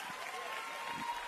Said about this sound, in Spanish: Los jueces están aplaudiendo de pie.